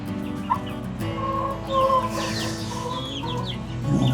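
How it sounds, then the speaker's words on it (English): A big chicken clucks steadily from close by, its calls repeating over a constant farmyard background of other fowl, with no talking. "That is definitely a big chicken."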